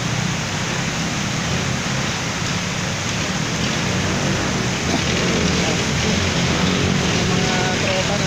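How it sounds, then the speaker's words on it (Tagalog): Heavy rain pours down in a dense, continuous roar during flooding in Taguig, loud and steady, with a voice faintly under it. "sobrang lakas ng ulan talaga dito"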